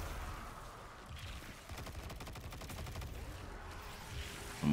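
Weapon gunfire in the video game Destiny 2 comes as a quiet rapid burst of shots, a steady rattling volley in the middle of the clip over background game sound.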